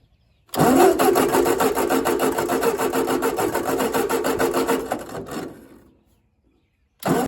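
A 1953 Ford engine with no fuel cranks steadily for about five seconds without catching, the starter churning loud and close before winding down, then a brief burst of cranking resumes.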